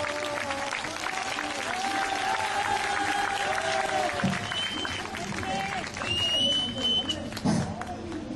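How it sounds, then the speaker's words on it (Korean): An outdoor crowd at a Christmas Eve 2016 rally near Daehanmun, Seoul City Hall, claps continuously to welcome pastor Kim Jin-chul, a dense wash of applause with voices and some tonal sound over it. "목사님 나오실 때 뜨거운 박수로 맞이해 주시기 바랍니다"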